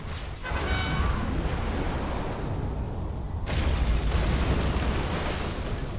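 Heavy, rumbling explosions from cruise missile strikes in the game C&C: Generals roll on loud and continuous, with a fresh blast surging in partway through, no voices over them.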